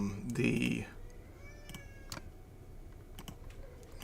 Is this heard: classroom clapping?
no